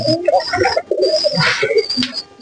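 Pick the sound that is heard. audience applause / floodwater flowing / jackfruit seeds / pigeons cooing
pigeons cooing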